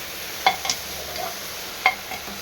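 Food is stirred and sautéed in a pan, quiet sizzling under a few sharp scrapes and taps of the spoon against the pan, close and fairly faint, with no voices.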